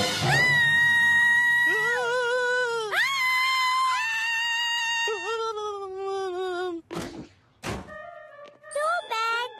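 A cartoon cat in Kid vs Kat gives a series of long, drawn-out meows that rise and fall in pitch, broken by a few short thumps and sharper yowls near the end.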